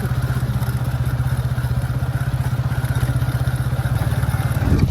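A motorcycle rides along a rough, dangerous road near Nilkuthi, its engine thumping in a fast, steady pulse close by, with the level rising slightly at the end.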